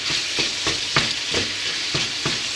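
Ground meat browns in a hot pan for bolognese, a steady close sizzle and crackle of frying with the soft scrape of stirring recurring every half second or so.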